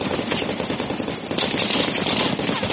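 Rapid machine-gun fire in a tank combat video game, a dense, continuous rattle of shots lasting the whole moment, loud and close with no pauses.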